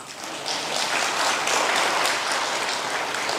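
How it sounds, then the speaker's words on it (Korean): Congregation clapping at an evening church revival service in a Korean church, a dense, loud, continuous roar of many hands clapping together for a few seconds, with no voices over it. "이럴 때는 박수를 쳐도 괜찮아"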